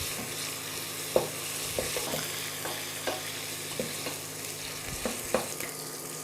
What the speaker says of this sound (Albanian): do hedhim edhe qepët për të skuqur